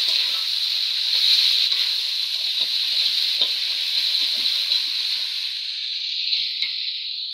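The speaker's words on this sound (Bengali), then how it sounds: "একসঙ্গে ভেজে নেব।" Potatoes and vegetables fry in a pan with banana flower and prawns, giving a steady, close hiss and sizzle with faint stirring clicks that fade slightly near the end.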